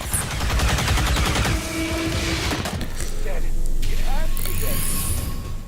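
Dense bursts of gunfire and combat effects in XCOM 2 on a train yard map, loud and continuous under a backdrop of game sounds, with speech mixed in.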